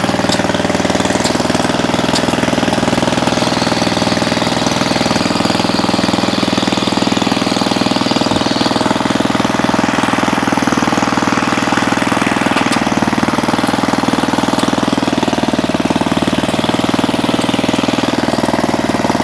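A 1970s Massey Ferguson 253 rototiller engine running steadily nearby, a loud continuous mechanical drone with a rough knocking chug that holds constant throughout, with no talk.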